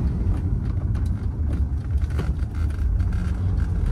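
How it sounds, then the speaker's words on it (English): A 1983 Mercedes-Benz 240D diesel sedan with a four-speed manual gearbox drives along, its engine and road noise holding a steady low rumble close by while it shifts and downshifts. "See how nice the car shifts, downshifting."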